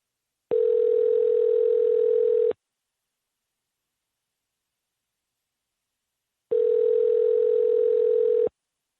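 A telephone ringback tone plays while a home phone number is called, giving two long steady electronic tones about two seconds each, separated by four seconds of silence, clean and loud with no talk.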